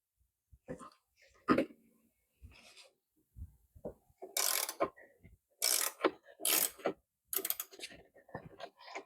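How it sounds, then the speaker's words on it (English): A Hyper Tough Nano ratchet is worked in several close bursts of dense clicking, separated by short pauses and quieter handling noises. "let's see how this Hyper Tough Nano ratchet does"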